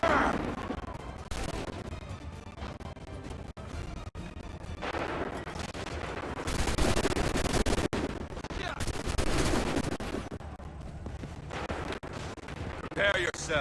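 Musket volleys crack out in the Assassin's Creed 3 battle, several loud overlapping bursts of gunfire across the clip with a heavy dense stretch in the middle, while shouted voices and battle din carry underneath.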